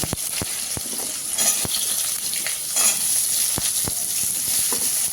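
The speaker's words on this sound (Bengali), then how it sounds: "এবারে কোয়াশগুলো ভেজে নেব" Squash pieces frying in a pan for a potato and katla fish dish, giving a steady close sizzle with a few sharper pops and crackles throughout.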